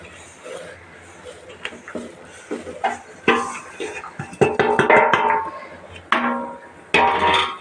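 Pearl millet is stirred in a metal cooking pot for village-style kambu rice, with irregular scraping clinks and clatter of a spoon against the pot that grow louder and busier toward the end, close up.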